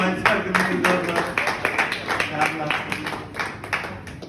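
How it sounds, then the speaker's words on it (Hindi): A group of people claps hands in a bursty, uneven rhythm at a talk or gathering, the claps blending with a speaking voice that continues over them. "ताली बजाओ भाई साहब"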